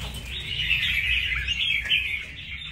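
A red-whiskered bulbul sings a continuous run of bright, warbling notes at moderate distance over faint low background noise, with no voices.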